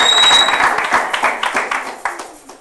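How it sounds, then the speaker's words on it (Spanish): Church audience claps for the Lord in a short burst of loud, close, uneven clapping that thins into scattered claps, with some vocal sound mixed in. "denle un aplauso al Señor, hermano"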